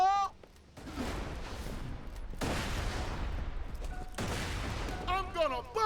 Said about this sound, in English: Watch out for the mortars, Slab.